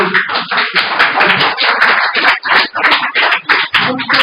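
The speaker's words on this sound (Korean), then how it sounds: "할 때마다 그냥 박수 빡빡 쳐갖고" Dense, continuous applause from an audience in a lecture hall during a Korean talk on survival skills for the AI era, many hands clapping together close and loud for the whole stretch.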